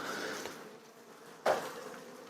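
Honey bees buzz in a low, continuous drone as they are gently brushed off a brood frame holding young larvae, with a brief sharp knock partway through.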